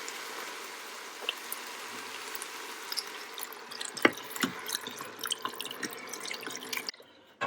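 Beef broth from a 32-ounce container pours into an Instant Pot, a soft liquid glug and splash that builds into close, irregular drips and sloshing before cutting off.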